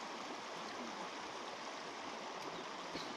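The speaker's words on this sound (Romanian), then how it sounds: "Un râu frumos pe aici, e foarte frumos, se aude." A river stream flows near Cabana Cug in the hills around Mărișel, giving a steady, unbroken rushing of water at a fairly soft level, with no voices.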